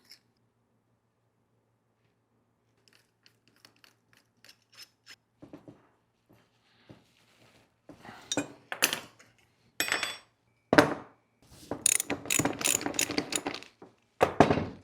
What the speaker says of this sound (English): I'll get them both Loctited up and then I'll torque them and I'll crank them down